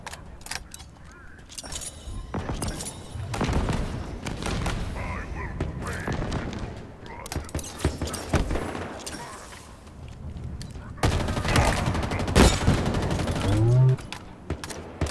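Rifle fire in Halo Infinite's campaign on Legendary difficulty: repeated bursts of shots and booms throughout, with a voice talking over the combat.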